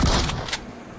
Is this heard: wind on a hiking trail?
no